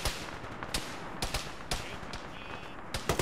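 Gunfire in the ShackTac military video game: several sharp distant shots crack at irregular intervals over a constant hiss of background ambience, moderately faint, with no talk.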